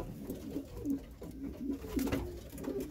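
Pigeons cooing steadily inside a bird loft at night, several soft rolling coos overlapping at close range with no talking.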